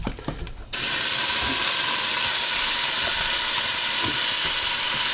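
Spices hit hot oil in a pan over a medium-high flame, bursting into a sudden loud, steady hiss and sizzle with faint pops, after a brief quieter moment at the start.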